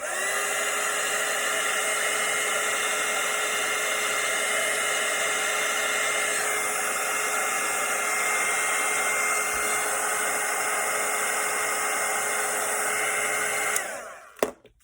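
Hair dryer blowing steadily on a watercolour painting of a Christmas cottage, a loud, even whine held for about fourteen seconds with a slight pitch shift midway, then switched off with a brief clunk.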